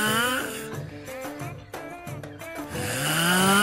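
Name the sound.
snoring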